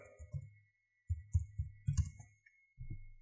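Fingers tap on a computer keyboard at a desk, short close clicks arriving in small irregular bursts separated by brief pauses.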